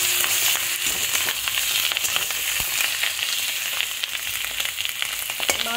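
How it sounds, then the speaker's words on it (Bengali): Fish roe and fish air bladder fry in oil, a loud, close, continuous sizzle dotted with sharp pops and crackling spatters, plus occasional stirring; no one speaks. "মাছের ডিম আর তেল পটকা ভাজা ভাজা হচ্ছে"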